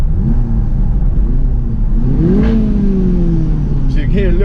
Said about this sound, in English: You can hear what the exhaust will sound like.